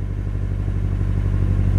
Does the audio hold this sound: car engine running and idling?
yes